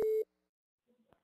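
A telephone line tone sounds as a prank call is placed: one short loud electronic beep, then near silence broken by faint clicks on the line.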